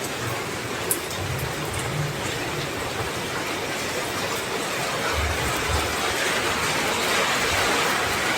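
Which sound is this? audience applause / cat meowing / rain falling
rain falling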